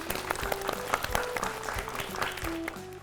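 A short burst of clapping from a small group on a Hindi quiz show, brisk and close, lasting a few seconds.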